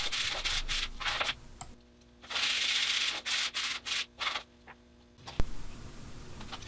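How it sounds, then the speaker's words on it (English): Bursts of rough, rasping sanding strokes on wooden segments for a segmented ring, several in quick succession with short pauses between, close and fairly loud, ending with a sharp knock. "And now I'm sanding the final 2 pieces to go into the assembly."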